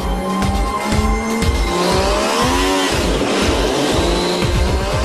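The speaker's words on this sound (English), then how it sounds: "Now the engine which is running is one of the first engines made with production parts" An MV Agusta F3 675 motorcycle engine built with production parts runs on a test bench, revving loudly and repeatedly in rhythmic surges, with rising and falling pitch alone.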